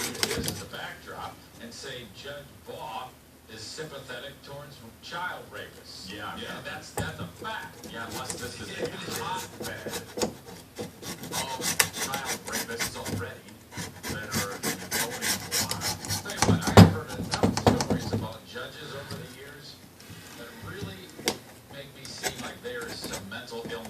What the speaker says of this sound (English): we just take our metal pry tool and just scrape it away